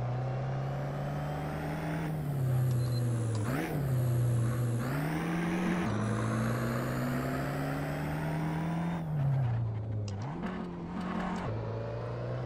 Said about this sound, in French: L'échappement du S1.